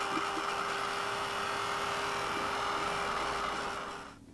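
A heat tool blows steadily while drying a stamped paper card, a constant close whirring hum that holds evenly for about four seconds before cutting off.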